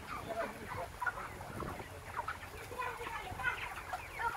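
Broiler chickens ready for harvest at 35 days old, about 2.5 kg each, clucking and murmuring as a dense flock in a poultry house, soft continuous chatter with scattered higher calls over steady background noise.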